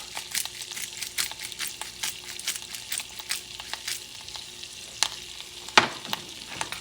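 Thyme and black pepper sizzling in a pan while being stirred, a continuous crackling fry with frequent quick scrapes and one sharper clink near the end.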